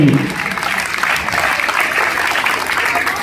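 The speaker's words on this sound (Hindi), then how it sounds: "एक बार जोरदार ताली की गड़गड़ाहट के साथ इन समस्त गुरुजनों का आभार प्रकट किया जाए" Schoolchildren at a Republic Day school event give loud, dense applause for their teachers, a continuous roar of clapping that holds steady throughout.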